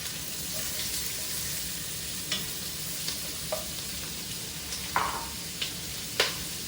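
Onions start sautéing in a pan for chowder, a soft steady sizzle with a handful of distinct scrapes and clinks from stirring spaced through the moment.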